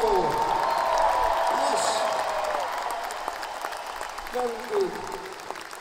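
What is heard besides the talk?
concert audience applause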